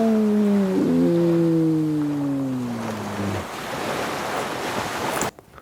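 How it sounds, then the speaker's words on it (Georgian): Recorded sea-wave sounds play from a phone or speaker: a low wavering horn-like tone fades into a steady rushing surf hiss, close and even, before cutting off abruptly near the end. "ამას შემიძლია ეხლა ზღვის ხმა რო ჩავრთო"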